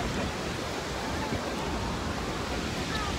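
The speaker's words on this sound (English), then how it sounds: "We're like literally underneath the falls, getting destroyed by the water." Niagara Falls roaring from directly underneath the cascade, a dense, constant wall of loud crashing water and spray that drowns out everything else for the whole moment.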